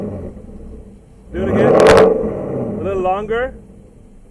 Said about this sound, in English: the car sounds phenomenal. It sounds ferocious.